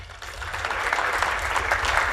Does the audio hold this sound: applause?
yes